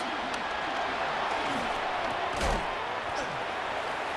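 A single hard pad-on-pad collision on a football field knocking the ball loose, a brief thud midway through over steady crowd noise and a voice talking.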